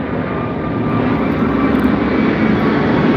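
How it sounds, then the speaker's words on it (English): A fixed-wing propeller airplane drones steadily overhead in downtown Miami, a loud continuous engine roar that swells slightly as it passes, with no talking. "that's the airplane."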